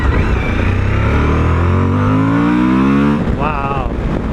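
A 2021 Suzuki V-Strom 1050XT motorcycle accelerates on the road, its loud, smooth engine climbing steadily in pitch, then dropping at a gear change and rising again, heard close over wind.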